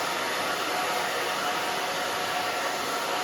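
A hair dryer blowing on a short bob haircut, a steady loud broadband whoosh held at an even level throughout, close and alone.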